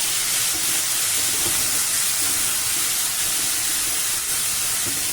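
Chopped tomatoes frying over a medium flame in a pan of okra and tomato gravy curry, giving a steady, loud, continuous sizzle and hiss with no voices.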